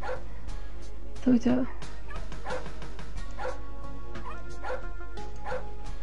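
A dog barks several times, yipping and whimpering, with one louder bark near the start and smaller bursts after it. A voice talks briefly among the barks.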